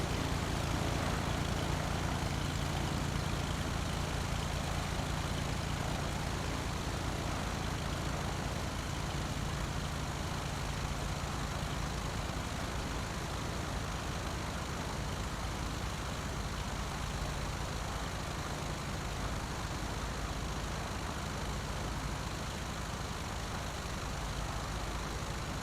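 Aircraft taxiing on the ground in Flight Simulator X, a continuous, even engine drone with a propeller hum that holds at steady loudness throughout, with no voices.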